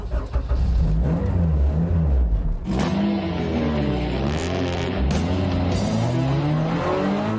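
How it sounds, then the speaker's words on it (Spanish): Race car circling a racing circuit, its engine loud and continuous with repeated revving rises and falls as it accelerates and shifts, with no talk. "Comenzamos a rodar por el circuito."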